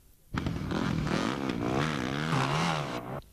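Enduro motorcycle engine revving loudly on a snowy trail, a strong continuous engine roar that rises and falls in pitch over about three seconds before cutting off abruptly.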